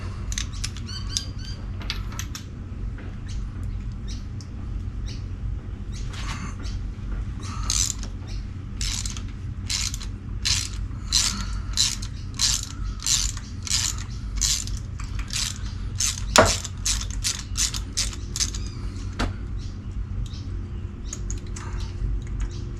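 A ratchet wrench clicks in quick repeated bursts while spark plugs are pulled from a Mazda engine during a roadside breakdown, the close mechanical ratcheting coming in uneven runs with short pauses and no talking.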